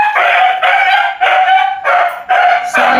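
A dog barks loudly and close by inside a house, in a run of about six harsh bursts separated by brief pauses.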